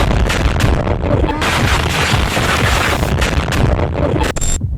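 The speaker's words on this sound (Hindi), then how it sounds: "और फिर हुआ एक बड़ा धमाका" A loud, dense blast of rumbling noise fills the clip, booming and crackling with sharp bursts before cutting off abruptly, from a large explosion in Aleppo, Syria.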